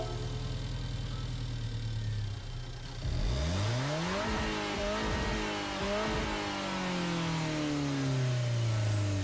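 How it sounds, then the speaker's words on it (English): A stock Alfa Romeo 4C Group 3 Road Car engine in Gran Turismo 7 cranks and fires at about three seconds, blipping up through several loud revs before settling into a steady idle, with a low hum running underneath before the start. "The startup sound for a stock 4C Group 3 Road Car Edition."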